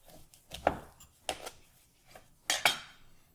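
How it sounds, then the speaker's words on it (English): A knife going through a pumpkin to halve it on a cutting board, heard as a handful of separate dull thunks and scrapes, loudest as two quick knocks near the end, with quiet gaps between. "So we start by cutting the pumpkin in half."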